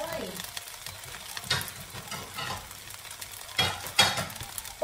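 Black rice and minced beef stir-fried in a hot pan, a steady close sizzle broken by louder bursts of scraping and tossing, with no talk over it.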